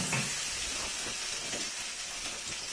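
Hot pan hissing in water in a kitchen sink: a steady, loud steam hiss with a faint bubbling texture, heard alone without speech.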